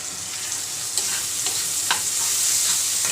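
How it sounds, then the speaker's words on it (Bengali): Onion sizzles in hot oil in a kadai for Bengali chicken curry, a dense steady hiss with a few soft stirring clicks, close and unbroken, no one speaking. "কড়াইতে আমি পেঁয়াজটা দিয়েছি, কারণ আজকে হচ্ছে রান্না করব চিকেন।"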